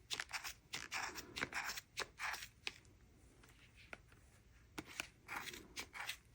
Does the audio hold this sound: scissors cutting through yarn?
yes